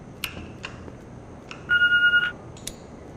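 An answering machine in the video game The Walking Dead beeps: a few short electronic chirps, then a steady pulsing tone lasting about half a second, then one more bright chirp.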